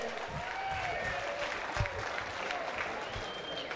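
An audience at a USFFC mixed martial arts fight night cheers and applauds for the cage girls, a sustained wash of clapping and shouts from a crowd in an arena.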